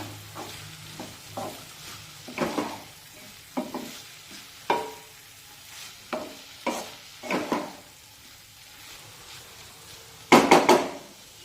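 A spatula repeatedly scrapes and turns capsicum frying in a kadai, giving roughly a dozen close, irregular stirring strokes over a soft sizzle, ending in a louder clatter; no one speaks.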